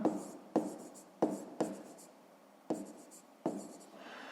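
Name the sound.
writing an asterisk on paper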